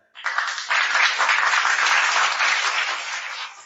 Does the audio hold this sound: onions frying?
no